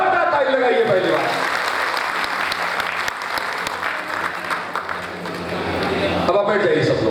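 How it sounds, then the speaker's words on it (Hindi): Loud, sustained applause from a crowd at an Akhil Bharatiya Teli Mahasabha gathering in Madhya Pradesh, steady dense clapping filling the hall for several seconds with voices mixed in. "सब लोग इनके लिए जोरदार ताली लगाइए।"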